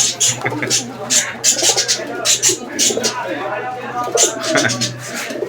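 Fancy pigeons in a loft coo in repeated soft, throaty calls close by, with a low steady hum underneath and a voice talking over them.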